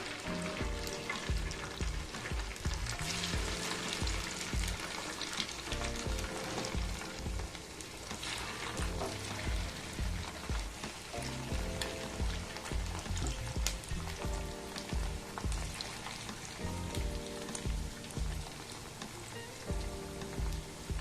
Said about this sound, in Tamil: சிம்மில் வச்ச பின்னால் நம்ம கட் பண்ணதை ஒன்று ஒன்றா இதில் நம்ம சேர்த்துடலாம்